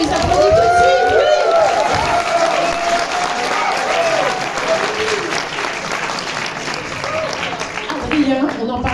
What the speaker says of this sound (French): Mais oui, on les applaudit tout de suite, oui.